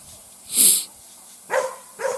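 A dog out on a walk with a woman gives a couple of sharp, loud barks at some distance, followed by a few shorter, quieter yelps.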